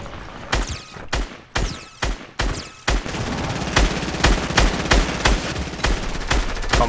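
Gunfire in the Fortnite video game, starting as separate sharp shots and turning into a rapid, sustained burst of automatic fire, loud with no talking.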